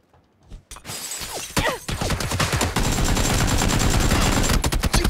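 Rapid automatic gunfire in PlayerUnknown's Battlegrounds, dense close bursts of shots with sharp cracks and breaking sounds, building into sustained loud firing.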